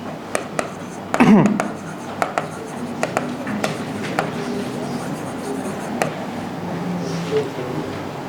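Pen writing by hand on paper, with quick scratchy strokes and taps, close by, during an accounting lesson; a few sharp knocks and brief background voices come through.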